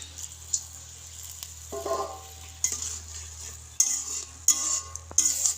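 Small shrimp get stirred in a pan with spice paste, with intermittent spatula scrapes and clinks against the pan over a soft sizzle and a low steady hum.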